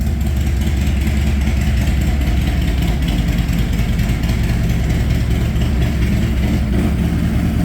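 A Harley-Davidson Road Glide Special with a 122 big bore V-twin idling steadily at around 1100 RPM, a loud, continuous low rumble heard up close without talking.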